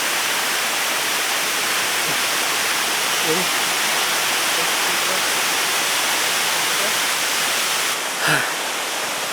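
Khoiyachora waterfall in Mirsarai roars as a broad, steady rushing wash from nearby, constant throughout with only a faint thump near the end.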